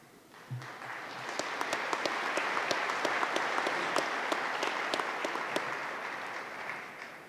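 A university commencement audience breaks into loud, sustained applause, many hands clapping in a thick, even roar that swells quickly and holds steady before easing slightly toward the end.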